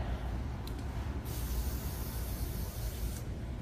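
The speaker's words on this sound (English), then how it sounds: "It's also a glossing spray." A glossing hair spray from an aerosol can hisses in one continuous, close burst of about two seconds, with a short puff just before it and low room noise around it.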